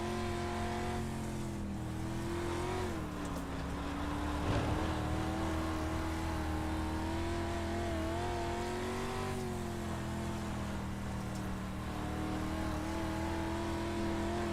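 Street stock race cars in iRacing roar around USA International Speedway, one engine droning steadily near and loud with small pitch swells as it holds speed, other cars faintly beneath.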